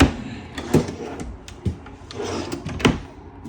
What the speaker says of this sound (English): Nice little pull down right there. Drawers, full extension, that's nice, right?